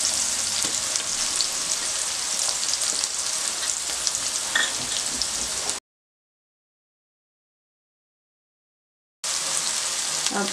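Garlic paste frying in a pan, heard as a steady, dense sizzle and crackle up close, broken by a few seconds of silence before the sizzling returns.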